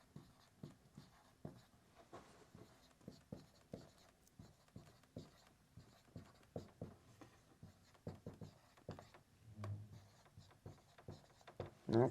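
Pencil sketching on paper produces quiet, irregular scratchy strokes in short bursts, close up and with no talk, with a louder stroke at the very end.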